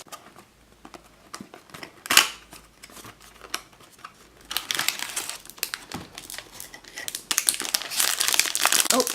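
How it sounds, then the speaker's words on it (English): Scissors cut into crinkly plastic collectible packaging nearby, with loud crackling, a sharp snip and sustained rustling of the plastic as it is worked open. "it's almost easier with nail scissors or needles to get into this plastic"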